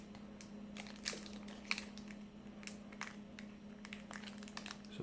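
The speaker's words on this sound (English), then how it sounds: "So open a pack, see what's in there." A Star Wars CCG Cloud City booster pack wrapper is torn open with crinkling plastic and sharp crackles, close up over a steady low hum, with no voices.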